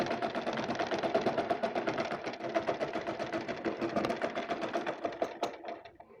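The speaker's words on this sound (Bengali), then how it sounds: "এই কাপড়টির নিচের মুড়িটা আমি সেলাই করে নিচ্ছি।" A sewing machine stitches a fabric hem for a sharara pant, running in a rapid steady clatter of needle strokes at close range, then slowing and stopping at the end.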